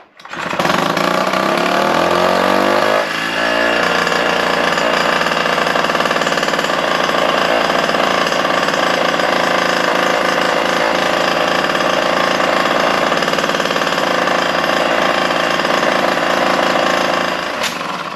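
A small two-stroke Solex moped engine starts up and keeps running loudly and steadily, with a rough, buzzing rattle throughout and no talking.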